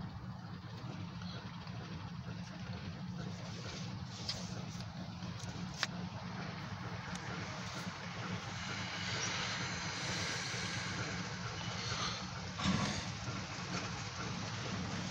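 A freight train of hopper cars rumbles past at a distance near a freight yard in Titusville, a steady low roll with faint metallic clanks and squeals from the cars going by.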